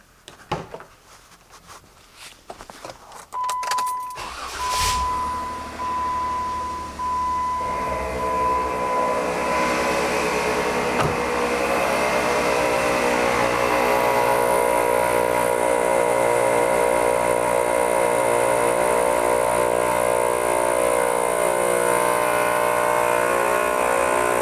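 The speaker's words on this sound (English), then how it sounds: "see how the ARB compressor does to air these back up to 30 PSI for all 4 tires" An ARB air compressor inflates four vehicle tires to 30 PSI, kicking on after a few seconds of quiet and then running as a loud, steady mechanical drone with a faint rhythmic pulse, with no talking.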